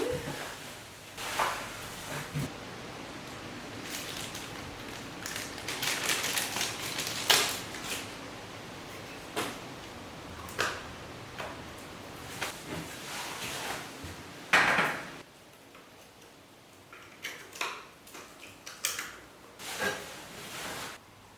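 Lids being fitted to wooden furniture during a home renovation: scattered knocks, clacks and scraping handling noises at irregular intervals, some louder thumps, with quiet stretches between.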